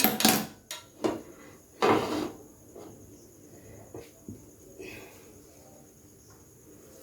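A metal pan is set onto a gas stove, making a few sharp clanks and knocks close by in the first couple of seconds, followed by quieter light taps and faint background hiss.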